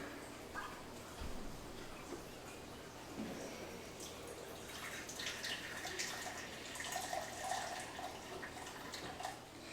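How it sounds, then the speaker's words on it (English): Tap water runs steadily into a measuring cup in a home kitchen while a brine for pickled jalapeños is prepared, a soft continuous splashing and trickling stream at moderate distance with faint background noise. "So let me get a cup of water."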